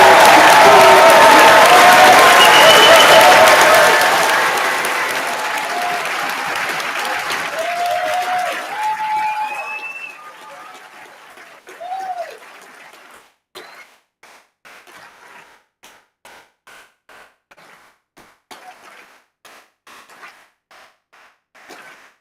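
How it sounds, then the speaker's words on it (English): A large audience at a graduation ceremony applauds and cheers the graduating class, starting as a loud, dense wave of clapping with whoops and whistles, then thinning out to scattered, fading individual claps. "applaud, shout for, cheer on the brilliant class of"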